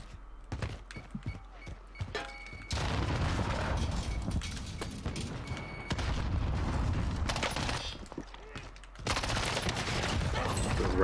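Gunfire in the video game Warzone, with rapid bursts of shots and booms in sharp clusters, some quieter stretches in between and louder sustained fusillades, no talk.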